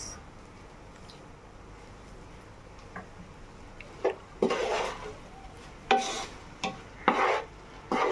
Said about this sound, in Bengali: খুব আলতোভাবে নেড়ে দিতে হবে, সবজিগুলো সুন্দরভাবে মিক্সড করে নিতে হবে।